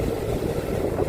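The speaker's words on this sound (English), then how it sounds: "It's terribly windy." Low, steady wind roaring and buffeting against the microphone, with no voices.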